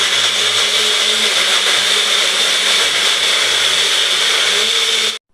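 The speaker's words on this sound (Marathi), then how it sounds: "मिक्सरला फिरून घेऊ" A kitchen mixer grinder whirs at high speed, steady and loud, blending beetroot and carrot with water for juice, then cuts off abruptly at the end.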